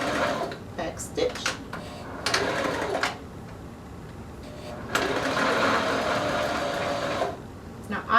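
A sewing machine back-stitching a reversible bikini swimsuit, giving short bursts of fast mechanical whirring separated by pauses, with a voice speaking nearby.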